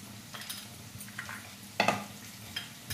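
Spices with tomato, turmeric and chili powder stirred through vegetables in a pan for pulao, a soft fry under intermittent scraping and clinks of a spoon against the pan, close by with no voices.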